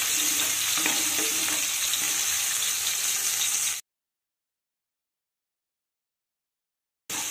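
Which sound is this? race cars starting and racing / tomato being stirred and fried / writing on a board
tomato being stirred and fried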